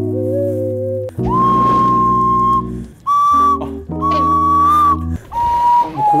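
A person whistles to imitate a water deer's call, giving several loud, sustained high whistles in separate bursts of about a second each over a held low tone, close to the microphone.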